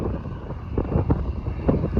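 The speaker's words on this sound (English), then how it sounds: "I do apologise for the wind, it's really windy up here." Strong gusts buffet the microphone on a windy high spot near an airport in Scotland, a continuous low rumbling roar that swells and surges in uneven bursts, with no one talking.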